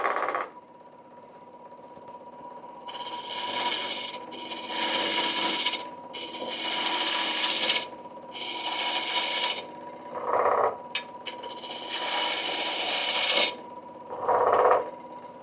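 Ash wood bud vase turning on a Shopsmith lathe, with repeated loud scraping bursts of the tool cutting the spinning workpiece, including through a wormhole, separated by short pauses and a lower steady motor hum.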